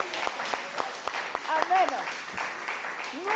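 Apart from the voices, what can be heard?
audience applauding and cheering for mothers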